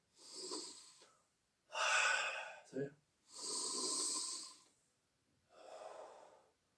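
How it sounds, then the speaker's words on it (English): Deliberate breathing during a kung fu exercise: four or five separate, close breaths, each a forceful hissing inhale or exhale with brief pauses between them, with one short snort-like catch in the middle, and no talking. "Try to get some coordination in your breathing with movement."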